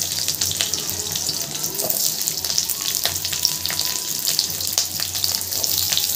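Onions going into hot oil with ginger and garlic already fried, a constant close hiss and crackle of frying with light stirring scrapes, steady and loud with no speech.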